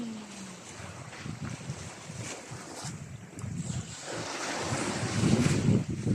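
Ocean surf rolls in with steady wind rumble, and a wave swells louder and crashes near the end, on a seashore in the morning.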